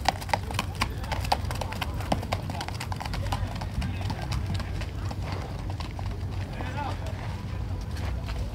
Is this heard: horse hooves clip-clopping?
yes